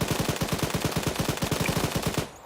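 Sustained automatic gunfire in a military simulation video game, a steady rapid string of roughly twenty loud rounds that cuts off abruptly at the end.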